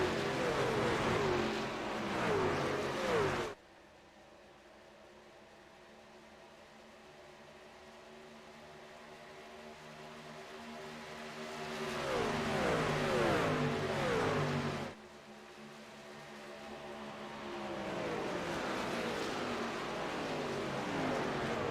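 A Toyota Tundra race truck roars down the backstretch of an oval in a truck series race, loud engine noise swelling and fading in waves as trucks pass, with brief quieter gaps between passes.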